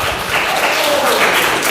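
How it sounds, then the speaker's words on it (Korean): A church congregation breaks into loud, dense applause during a Sunday service, a continuous wash of many hands clapping with faint voices mixed in. "박수 다시 한번."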